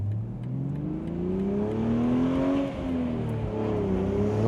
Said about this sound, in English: A little bit more deep bops coming from the exhaust.